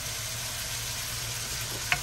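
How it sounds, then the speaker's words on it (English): Beef sausage stir-frying in a pan, a steady close sizzle with one brief clink near the end. "I'm just going to let that stir fry until it gets ready"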